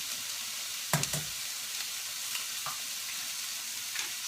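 Asparagus frittata mixture sizzling steadily in a skillet, a continuous bright frying hiss broken by a few soft knocks and clatters near the start.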